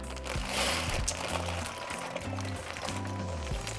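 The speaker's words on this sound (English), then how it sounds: "once the water comes to a boil, we're going to add 8 ounces of elbow pasta" Elbow pasta tipped into a pot of boiling water, a rattling, pouring rush with some crinkling, close and fairly steady, with deep rhythmic background tones underneath throughout.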